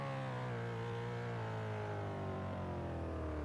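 IndyCar race car engines in a racing video game at the St. Petersburg round, with manual gears, hold a loud, steady, high-pitched drone whose pitch sinks slowly, with no talk over it.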